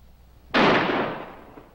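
A single loud gunshot cracks out during a police standoff, with a sharp onset followed by a long, broad echoing decay that fades over about a second; no voices are heard.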